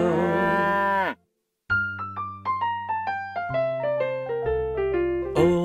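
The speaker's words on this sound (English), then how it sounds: "With a moo-moo here and a moo-moo there" A loud, drawn-out cow moo opens a children's farm nursery-rhyme song, then cuts off. After a short silence, a descending run of plucked musical notes follows.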